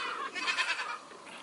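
A Nigerian Dwarf goat gives a short, wavering bleat up close, a single call that fades out.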